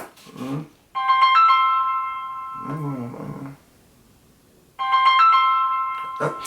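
A phone ringtone sounds in two loud bursts of bright, sustained tonal chimes separated by a quiet gap, with a short stretch of talking between them.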